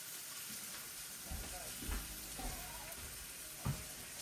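Chicken sizzles with a steady, quiet hiss in a crowded pan, with occasional soft thumps and scrapes as the pieces are moved.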